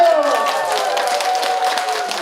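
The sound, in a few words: audience applause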